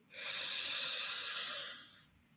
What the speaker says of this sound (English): we're going to take a really deep breath in through the nose